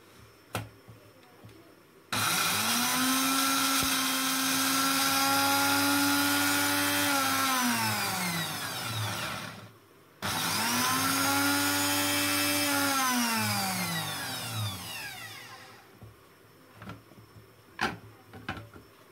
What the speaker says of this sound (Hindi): जो हम लोगों ने ठंडे करने के लिए रखे थे प्याज, उनको हम लोग ग्राइंड कर लेंगे